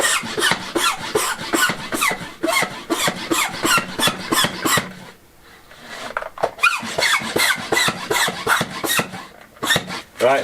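Repeated quick hand-saw strokes cut through threaded rod, a rhythmic rasping pattern with a brief pause midway before the sawing resumes, loud and close.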